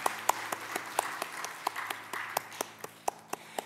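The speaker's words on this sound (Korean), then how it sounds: "다시 한번 축하 격려의 박수 부탁드립니다." Scattered applause from a church congregation during a Sunday service, individual claps ringing out sharply in a reverberant room, moderately close and fairly sparse over a few seconds, with no speech on top.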